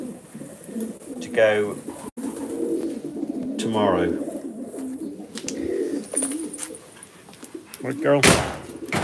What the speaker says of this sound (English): I'll be picking from these 17 pigeons